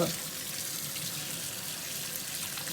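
Tap water runs steadily into a sink, rinsing soapy refrigerator parts being cleaned, a continuous close hiss and splash at low level.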